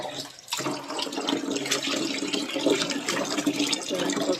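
Food is washed under running water, a steady close splash and gurgle of flowing water starting after a brief quieter moment and continuing without pause.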